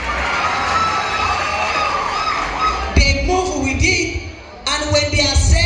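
An audience at a live comedy show cheers and shouts in a loud, rolling wash of crowd noise that dips briefly before surging again.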